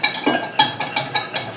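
Brisk stirring of warmed almond milk, sugar and gluten-free flour in a bowl, a utensil scraping and tapping in quick regular strokes, close and clear with no talking.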